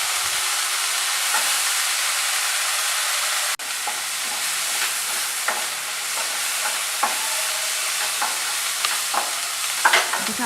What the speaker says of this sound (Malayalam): സവോള ഗോൾഡൻ കളർ ആവുന്ന വരെ നന്നായിട്ട് ഇളക്കി കൊടുക്കണം.